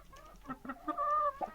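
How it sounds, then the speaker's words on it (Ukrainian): Several laying hens cluck softly and irregularly nearby, with a short drawn-out cackle in the middle, fairly quiet. "Ось такі мої курочки, красунечки."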